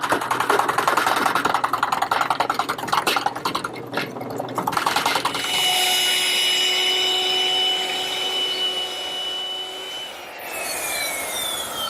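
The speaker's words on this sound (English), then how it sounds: "I'm using a 2-inch Forstner bit to make a decorative cut on the end" A 2-inch Forstner bit bores a decorative cut into the end of a pressure-treated wood rafter, a steady, grinding drill whir that shifts pitch as the cut proceeds, close and loud with no talk.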